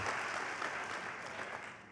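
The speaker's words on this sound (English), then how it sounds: "So give yourselves a round of applause." Applause from an awards gala audience fills two seconds as a continuous, moderately loud patter of many hands, tapering gently toward the end without any talk.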